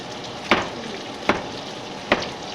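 Tofu fries in a pan with a steady close sizzle, broken by three sharp, evenly spaced stirring scrapes over a couple of seconds, with no voices.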